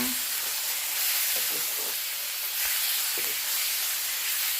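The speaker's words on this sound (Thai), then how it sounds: "ผัดเนื้อแบบว่าให้สุกนิดนึง" Beef stir-frying with garlic in a pan over a wood-fired stove makes a steady hissing sizzle, with faint scraping stir sounds through it.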